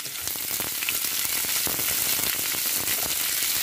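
Green chilli, garlic and onion sizzle in a small amount of hot oil for a tempering, a steady close frying hiss with crackling pops throughout.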